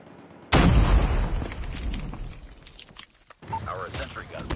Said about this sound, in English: Our sentry gun has been destroyed.